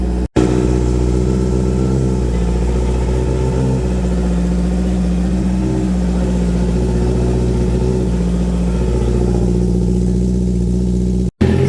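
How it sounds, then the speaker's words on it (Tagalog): Honda CBR 650R motorcycle with a full Ixil Racing Carbon exhaust and dB killer, about 600 km on the odometer, runs loud and close in a steady, throaty drone with mild swells in revs throughout. "So, Isil full exhaust with DB Killer Racing Carbon Honda CBR 650R with 600 Odo."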